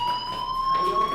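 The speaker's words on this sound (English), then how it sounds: "Hey, do you hear that fire alarm?" An electronic fire alarm rings in the video game Life is Strange, a steady high-pitched tonal blare held throughout, fairly loud and alone.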